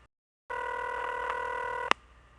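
In The X-Files video game, a telephone rings steadily for about a second and a half after brief silence, a clean electronic tone ending with a sharp click.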